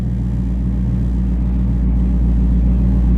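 Deep, loud exhaust rumble from a Dodge Charger Scat Pack, a steady low throbbing drone heard from inside the car, heavy enough to vibrate the cabin, with no talking.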